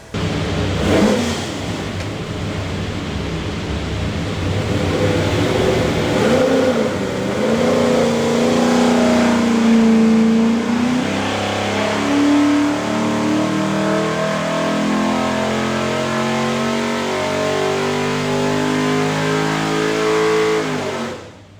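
A stack-injected 427 small block Ford V8 with Borla injection and Holley fuel management, built for a '66 GT race car replica, revs hard on an engine dyno, its loud sustained roar climbing in pitch through a full pull.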